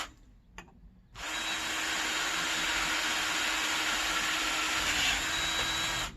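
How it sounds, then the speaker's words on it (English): A power drill boring a hole through a wrought iron fence for a gate handle, with WD lubricant on the bit: after a few soft knocks, a loud, steady grinding whine starts and runs continuously to the end, close and alone. "now I'm going to drill the main hole so these will slide easily through the wrought iron fence"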